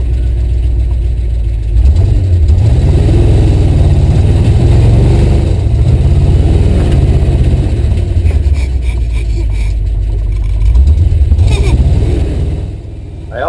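A Jeep driving off-road in snow: its engine drones loudly and steadily, with rising revs near the start and again near the end as the driver works to keep moving.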